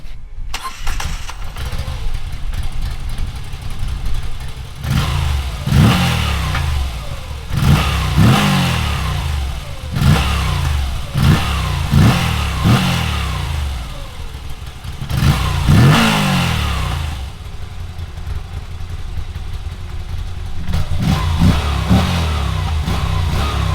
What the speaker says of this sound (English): I really love the engine sound of this bike. You really hear the intake of the engine, and also the standard exhaust sounds fine.